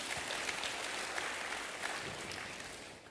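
A church congregation applauds during an Indonesian-language sermon. Dense, even clapping fills the room at moderate volume and tapers slightly toward the end.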